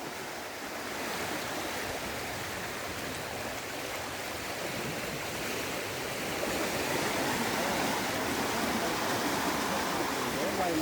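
Floodwater in a swollen creek near bamboo rushes steadily and loudly throughout, a dense continuous roar that swells slightly toward the end, with no talking over it.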